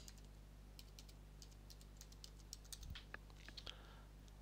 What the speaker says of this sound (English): Let's enter the username and password.